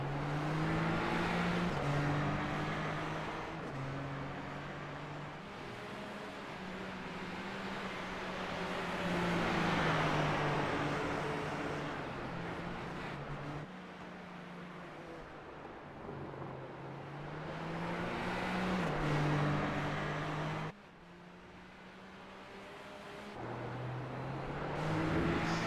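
Super Formula Lights race car in iRacing at Daytona, the engine droning and rising and falling in pitch through repeated gear shifts over a long stretch, loud and continuous.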